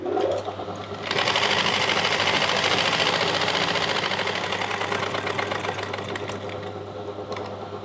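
A sewing machine stitches a seam on a ladies' pant, starting after a brief pause and then running steadily with a close, rapid mechanical chatter over a low motor hum.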